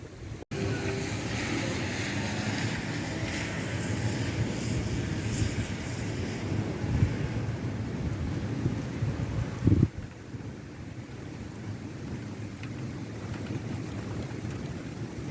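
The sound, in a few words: thunderstorm with rain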